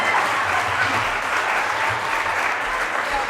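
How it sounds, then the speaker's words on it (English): Continuous audience applause at a programme event attended by young people, dense and even clapping from a large crowd sustained at steady volume from start to end. "I am just grateful and just clap hands"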